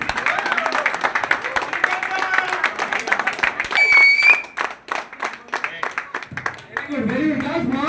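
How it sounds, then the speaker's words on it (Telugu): Boys clap together at a gym anniversary celebration, a dense run of hand claps mixed with crowd noise and people talking, fading toward the end. "ప్లీజ్ క్లాప్స్ కొట్టండి బాయ్స్."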